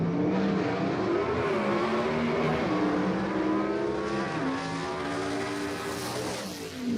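Ford Thunderbird gasser drag car racing down the strip at Lassiter Mountain Dragway, loud and continuous, its engine pitch climbing through gear changes before fading slightly at the end.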